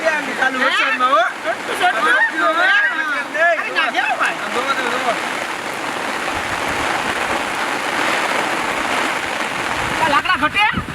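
Steady rain falling outdoors around a wood-fire cooking spot where a fish curry is being made, a continuous hiss that grows clearer once people talking nearby fall silent, then voices return.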